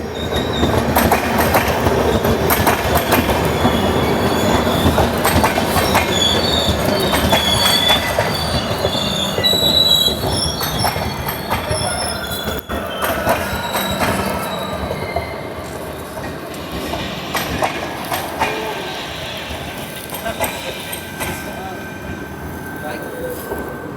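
Marathwada Express passenger train running on rails, with a steady loud rumble of wheels and carriages, intermittent squeals and clicks throughout, heard from inside a general class coach.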